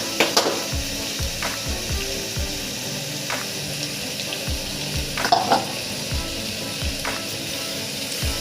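Vegetables cut to medium size are stirred and mixed in a hot pan for Assamese khichdi, giving a soft steady sizzle broken by repeated scraping clatters of the spoon, close and moderately loud, with no talking.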